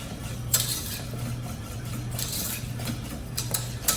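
A whisk or spoon stirs thickening, bubbling pastry cream around a pot, giving soft repeated scraping strokes with faint bubbling and occasional clinks against the metal.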